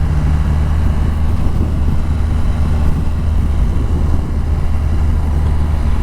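Triumph Rocket 3 motorcycle with a 2,500 cc, 190-horsepower engine, heard while riding: a steady, loud low rumble with wind roar that holds constant throughout, no voices.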